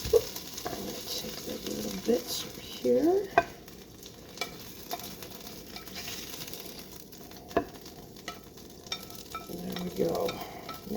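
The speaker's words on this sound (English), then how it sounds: "just flip the salmon over to do one final touch on the bottom" Salmon frying in a pan, a faint steady sizzle with spatula scrapes and a few sharp clinks, close by, while a voice speaks briefly.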